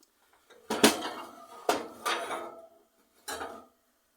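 A metal baking tin of Yorkshire pudding batter is handled and pushed into a hot oven, giving several clattering knocks and scrapes of metal on oven racks, spaced out and fairly close.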